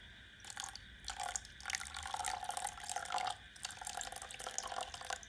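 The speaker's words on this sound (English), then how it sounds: "now Kanish, you add water in it" Water trickles and splashes into a balloon in a steady, faint pour with small irregular drips and gurgles.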